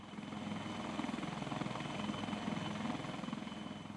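An Indian Army Aviation Dhruv helicopter flies nearby, its steady rotor beat and engine whine forming a constant, moderately loud drone with rhythmic blade pulses and no voices.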